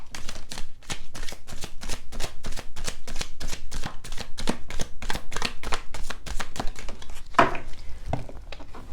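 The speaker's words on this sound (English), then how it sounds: "Two more shuffles." Rapid, rhythmic riffling of a tarot card deck, steady crisp bursts repeating for several seconds with no talking.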